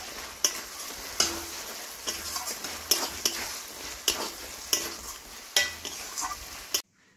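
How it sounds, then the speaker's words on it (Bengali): Bottle gourd and prawn curry finished with garam masala and ghee is stirred in a hot pan, producing a soft sizzle broken by regular scraping and knocking strokes about once a second, close and alone before stopping abruptly. "দিয়ে একটু ভালো করে নাড়াচাড়া করে নেব।"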